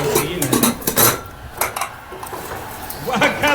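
Lid being fitted and closed on a pressure cooker holding food boiled in milk, a run of sharp metallic clanks and scrapes close by, with some voice in the background.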